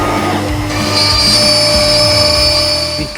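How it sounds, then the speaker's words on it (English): CNC router fitted with a 1/8 inch bit cutting through Baltic birch plywood, a steady, loud high-pitched whine with a continuous grinding drone underneath, running unbroken throughout. "what I'm gonna do now is cut this all the way out"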